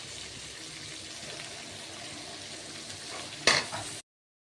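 Ginger sizzles in a pan with onions and chillies, a steady crackling fry with a brief louder burst as something is stirred, then a sudden drop to silence.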